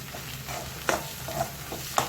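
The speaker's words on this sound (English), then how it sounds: "and saute it well for some time" Gongura (sorrel leaf) paste sautéing with browned dal and other ingredients in a pan, a low steady sizzle under scraping stirs, with two sharp clinks of the spoon on the pan, close and fairly quiet.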